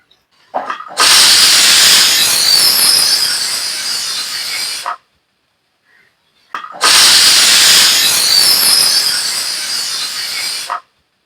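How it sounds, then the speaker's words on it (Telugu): Two long, loud steam whistles from a pressure cooker, each a sustained hiss lasting about four seconds, separated by a short pause. "కుక్కర్ మూత పెట్టేసి ఒక 2 విజిల్స్ వచ్చేంత వరకు ఉడికించుకోండి"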